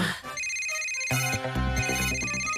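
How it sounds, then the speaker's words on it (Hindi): A bright electronic ringtone starts about a second in and plays a repeating melodic pattern, loud and close, over a faint background. "अरे पर किटी का फोन है।"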